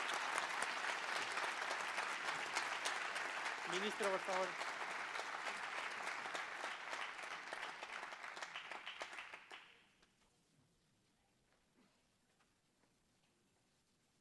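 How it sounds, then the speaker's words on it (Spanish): An audience applauds the speakers after a debate on the European social and economic model, loud sustained clapping lasting nearly ten seconds, with a brief voice over it, before dropping to a quiet room. "Muchísimas gracias a los 2, un gran aplauso."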